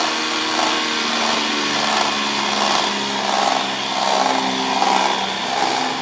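A self-exciting alternator motor runs at lowered revs, giving a steady, close whine with a faint rhythmic swell every second or so and no voices.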